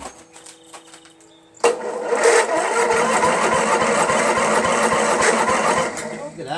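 A Toro 6.75 HP GTS Recycler 22-inch Personal Pace self-propelled key-start lawn mower engine starts abruptly after quiet sounds and keeps running at a loud, steady, close drone.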